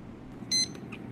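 A lab timer sounds one brief, bright electronic beep during a microbiology nitrate reduction test, with a fainter chirp after it over quiet room tone.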